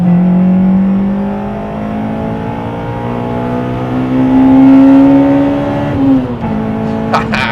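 Honda Civic Type R EP3 accelerating hard in third gear, a loud, close engine note rising steadily in pitch for several seconds, then dropping briefly at a gear change before pulling again.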